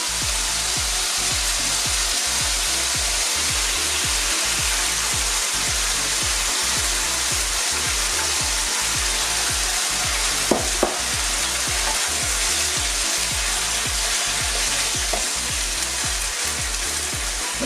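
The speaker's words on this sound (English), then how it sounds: "Now we're going to get this stirred around a bit, get it sealed, set all the flavour in." Green curry paste sizzles steadily in a hot pan while a utensil scrapes and stirs it in a regular rhythm. The frying stays loud and continuous, with brief knocks partway through and no talking.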